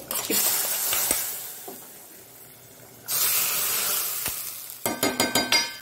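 Garlic sizzles in hot oil for a tempering, a steady bright hiss that fades and swells, broken by a few sharp clinks and a burst of rapid crackling pops near the end; no voices.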